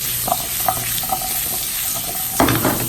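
Carrots stir-fried in oil in a frying pan for a steak garnish, a steady close sizzle with light scraping and clinks of stirring, and a louder burst of frying near the end.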